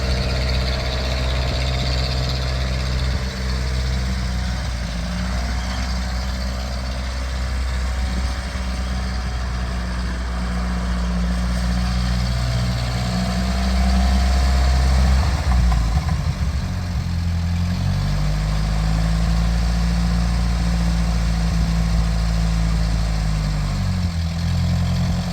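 A Ferguson TEA20 tractor engine in need of carburettor work runs steadily at close range, a low continuous rumble that rises and falls slightly in pitch, with no talking.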